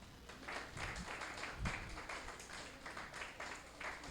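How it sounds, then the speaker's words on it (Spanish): A church congregation applauds with faint, continuous clapping from many hands, a soft rustling patter heard at a distance that holds steady throughout. "Vamos a dar un aplauso al Señor."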